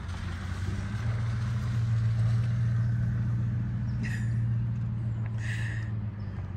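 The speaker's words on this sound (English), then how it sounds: "Sorry for all the noises, people driving by." Cars passing on a nearby road, a steady low engine rumble swelling and fading over several seconds, with a couple of faint higher sounds near the end.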